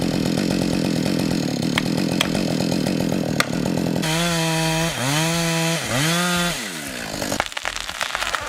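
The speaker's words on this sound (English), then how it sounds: "The crew is using plastic wedges and Husqvarna saws to bring down these massive trunks" Husqvarna chainsaws felling massive Norway spruce trunks in a woodlot, a loud steady engine drone with the pitch rising and falling in repeated revving swells as the chain bites into the wood.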